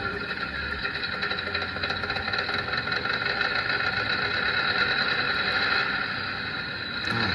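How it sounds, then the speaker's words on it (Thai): An electronic engine sound unit on an RC King Kong ZL 130 six-wheel dump truck runs steadily, a constant idling drone with a mechanical buzz, near and unbroken throughout. "เราต้องสตาร์ทเครื่องยนต์ก่อนเปิดแต่"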